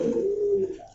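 A caged pair of fancy pigeons gives one short, soft, close coo that trails off within a second.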